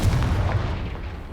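A Confringo spell blast in the video game Hogwarts Legacy lands as a single heavy, booming explosion that hits loud at once and rumbles away over about a second.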